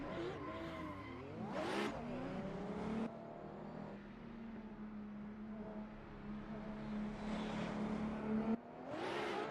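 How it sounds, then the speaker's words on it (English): Drift cars at Brno Circuit going on the throttle after a rolling start, engines revving hard and droning in a steady wail with tire noise, one car's pitch rising then settling. "Here they go on the throttle after the 50 roll"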